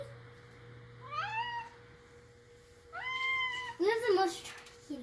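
A pet cat meows several times indoors, rising drawn-out cries coming in short bursts, the last ones louder and wavering, with a steady hum underneath.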